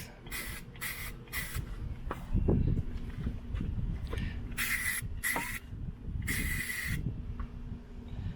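Repeated bursts of VHT caliper spray paint hissing from an aerosol can onto brake calipers of a 1972 Camaro, short back-and-forth passes with brief pauses, close and fairly loud.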